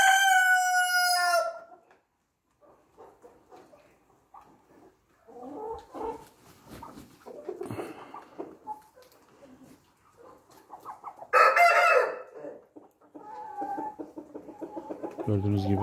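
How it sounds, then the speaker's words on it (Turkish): A rooster crows loudly at the start, followed by scattered clucking and bird calls, then another loud crow near the end. "Horozlarımız maşallah. Tavuklarımız maşallah."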